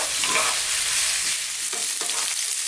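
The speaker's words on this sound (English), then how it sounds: "I'm just going to fry this for about 4 to 5 minutes" Bitter gourd (karela) pieces frying in oil for an Indian dry sabzi, a loud close sizzle with a dense crackling hiss and occasional stirring scrapes, and no voices.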